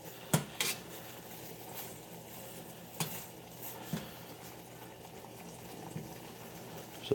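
Dandelion leaves boil in a pot of water: a soft, steady bubbling hiss with occasional faint clinks, quiet and close, with no talking.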